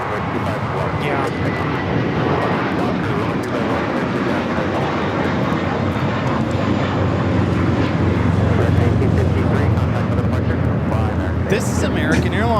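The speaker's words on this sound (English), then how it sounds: "This is American Airlines 1853 taking off to Chicago on the A321" An American Airlines Airbus A321 on its takeoff roll from Los Angeles LAX, a loud, sustained jet engine roar building steadily over about twelve seconds, with people talking nearby throughout.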